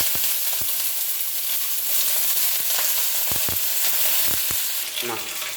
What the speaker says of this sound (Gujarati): હવે રાઈ નાખી દઈએ. તેમાં લીમડાના પાન નાખીએ.